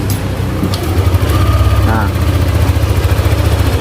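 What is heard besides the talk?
Yamaha motorcycle engine idling smoothly after repair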